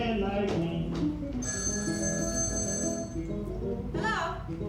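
A telephone bell rings in a room, repeated trilling bursts over a steady background of music and voices, fairly loud and near.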